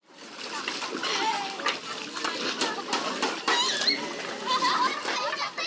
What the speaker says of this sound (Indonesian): Setiap pagi para siswa harus berjalan lintasi genangan untuk masuk sekolah.